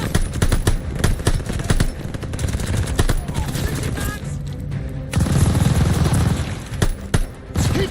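Tower machine gun fire in the shooter game Call of Duty Vanguard: loud, rapid bursts of automatic gunfire with heavy booming shots and battle noise, while soldiers shout over the chaos.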